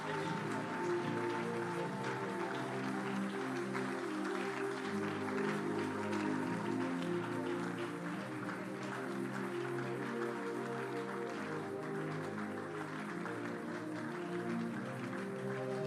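A church congregation at a Pentecost gathering applauds in a steady, dense patter that lasts throughout, over a sustained low musical drone.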